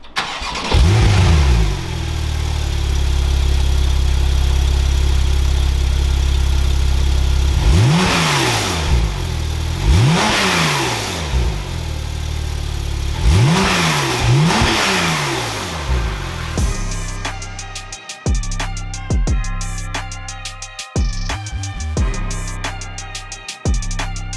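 A Porsche 991 Turbo with an Akrapovic exhaust cranks and fires, then settles into a loud idle. Three sharp revs rise and fall, and a faster run of short blips follows.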